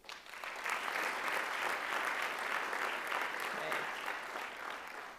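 An audience at a university honors convocation applauds the scholars, with broad sustained clapping from a crowd that rises quickly and holds evenly at moderate, slightly distant loudness.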